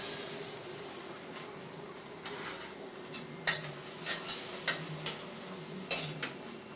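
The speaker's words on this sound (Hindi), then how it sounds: "इसको हल्का सा ऐसे फ्राई होने दीजिए।" Rice fries gently in a pan for pulao, a quiet low sizzle with occasional scraping and clinks of a spoon stirring against the pan.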